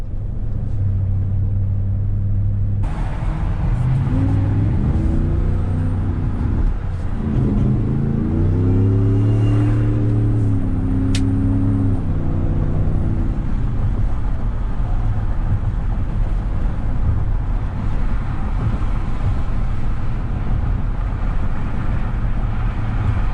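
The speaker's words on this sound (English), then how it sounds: "we are just cruising here we're doing about 60 miles an hour" A supercharged 775-horsepower V8 Ford Shelby truck cruising at about 60 mph, its steady low engine drone and road rumble running continuously, rising briefly in pitch partway through before settling back.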